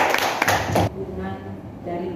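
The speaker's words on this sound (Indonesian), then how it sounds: "Mari kita tepuk tangan untuk Pak." A school talk-show audience breaks into applause, a dense burst of clapping lasting under a second before it cuts away to quieter room sound and murmuring voices.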